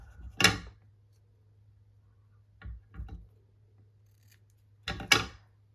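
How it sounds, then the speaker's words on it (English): Small detail scissors trim the ends of a tied ribbon for a paper-craft project: a few crisp, close snips, one near the start, a quick pair in the middle and another near the end, with quiet pauses between. "I'm going to pull in my new detail scissors"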